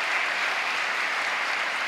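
A church congregation at a Sunday service applauds to welcome a visiting team from Chicago, a steady, even wash of many hands clapping with no breaks, moderately loud and filling the room.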